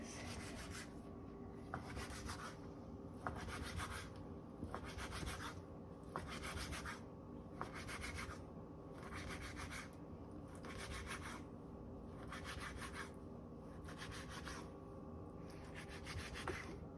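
A kitchen knife cuts raw salmon into small chunks for salmon patties, making steady, evenly spaced rasping strokes close up, about one every second and a half, with no talking.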